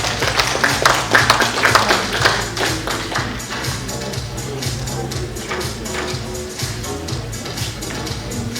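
An award ceremony audience claps in steady, dense applause that is loudest at the start and then eases into a sustained patter.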